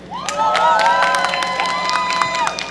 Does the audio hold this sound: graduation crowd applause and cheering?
yes